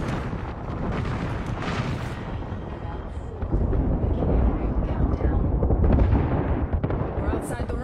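An artillery strike lands in the video game Apex Legends, with dense, continuous rumbling explosions that swell louder partway through and hold at a heavy, sustained roar.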